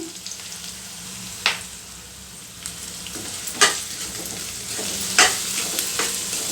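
Curry leaf rice ingredients, seasoned with cumin and salt, frying in a pan: a soft continuous sizzle broken by several sharp scraping stirs spaced a second or so apart, close and fairly quiet.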